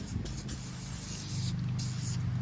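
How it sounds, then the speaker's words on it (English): Paint stripper sprays from a can onto a 1968-74 C3 Corvette gas tank in short hissing bursts close to the mic, with low handling noise underneath. "We're gonna spray those areas to get the paint off."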